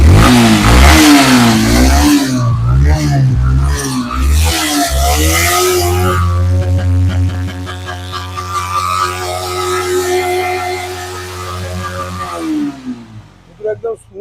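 A Yamaha R15 v3 motorcycle engine revving hard and loud up close, with rising and falling throttle blips, then settling into a steadier high drone before cutting back, with a voice heard briefly.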